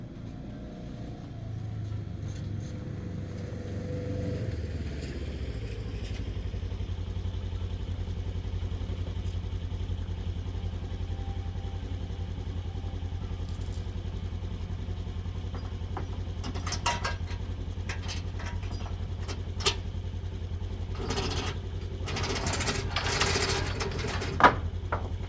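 Ford Ranger truck idling and crawling in four-wheel-drive low: a steady, low engine hum that drops and settles after a few seconds, with faint clanks and rattles and some sharp clatter toward the end.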